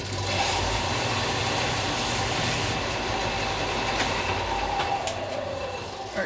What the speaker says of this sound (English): Be right back, going to the sander.